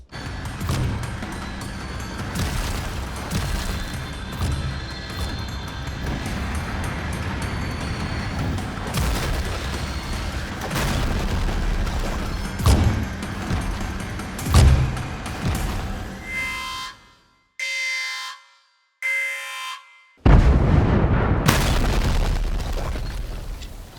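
Blasts tear through a spaceship in Lego Fortnite, a dense run of booming explosions and crackling bursts over a rumbling bed, then short choppy bursts separated by silence and a final loud blast.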